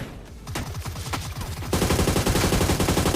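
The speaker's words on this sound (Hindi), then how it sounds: "मैं ओग निकाल के जल्दी से फायरिंग कर देता हूँ" Rapid automatic gunfire in a first-person shooter video game, loud, close bursts of closely spaced shots that grow denser and more continuous partway through.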